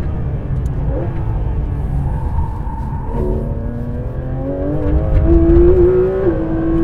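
Porsche GT3 RS sports car braking hard, then pulling away with a deep rumbling engine whose pitch climbs as it accelerates, loud and close throughout.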